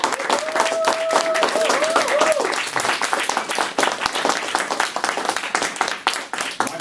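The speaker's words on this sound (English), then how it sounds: "To ask you to applaud our speaker number 7." Audience at a 2016 area speech contest applauds a speaker, dense steady clapping with a few cheers throughout, a brief tonal whistle-like sound early on under the crowd.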